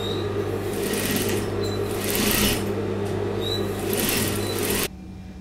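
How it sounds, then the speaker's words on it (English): A sewing machine runs steadily at close range while sewing a dress hem, a continuous whirring hum that stops abruptly near the end. "I'm just sewing in my hem now."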